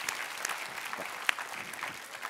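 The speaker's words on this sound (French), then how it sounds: "je pense que ça s'applaudit" Audience applause at a school talent show, a steady wash of many hands clapping with one sharp louder clap standing out, moderately distant and continuous through the short stretch.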